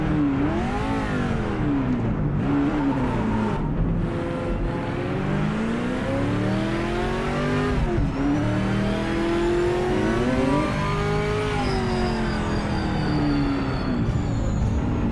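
A GT race car engine in the Project Motor Racing sim revs loud and close, rising and falling through gears in sweeping pitch climbs over about fifteen seconds, with brief lifts between pulls.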